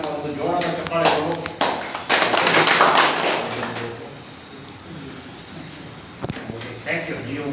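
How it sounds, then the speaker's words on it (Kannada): Loud applause from the audience at a Bengaluru South district meeting swells for a couple of seconds and then fades, with someone talking over a microphone before and after. "ಒಂದು ಜೋರಾದ ಚಪ್ಪಾಳೆಗಳು."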